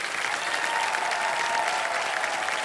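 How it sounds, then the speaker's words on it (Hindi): A studio audience applauds warmly on a television quiz show set, a dense, even wash of clapping that continues without pause for the whole stretch. "एक बार जोरदार तालियां बज जाए साधना जी के लिए"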